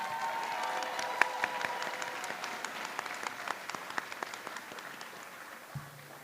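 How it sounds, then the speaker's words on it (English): An audience at a university fashion show applauds steadily, many hands clapping at a moderate distance, gradually fading as the clapping winds down. "another big round of applause to Hillary M. Stone"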